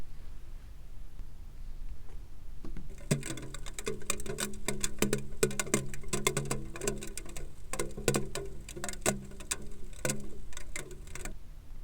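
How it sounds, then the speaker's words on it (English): Steady rain pattering close by, starting softly then turning into dense, irregular drops striking a surface for several seconds, with no voices. "Yes, it's raining."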